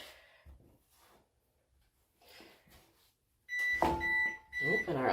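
Oven beeping to signal it has finished preheating during scone baking, a few sharp electronic tones after kitchen handling noises, with a short quieter gap between the beep bursts.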